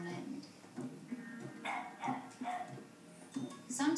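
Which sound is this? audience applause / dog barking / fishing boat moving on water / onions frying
dog barking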